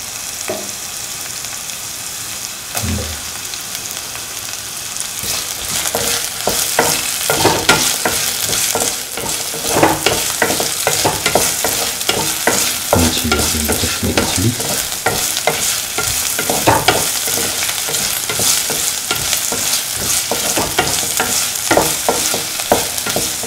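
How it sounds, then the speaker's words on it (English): Shallots, garlic and ginger sizzle and fry steadily in a hot pan while being stirred for green mango fried rice, a loud continuous crackle with scraping stir strokes throughout and no talking. "Put in the shallots and the garlic and the ginger"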